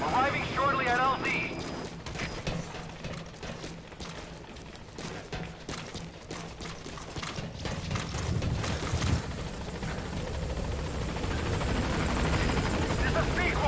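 In the Metal Gear Solid 5 video game, the Pequod helicopter approaches a landing zone. A rumbling rotor drone swells and grows heavier toward the end, with a radio-style voice speaking over it.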